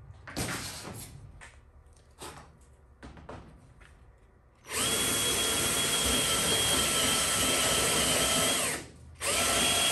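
A power drill fitted with a unibit step bit bores a hole, spinning up loud and steady for several seconds after some short handling knocks and clicks, with a brief pause before it resumes.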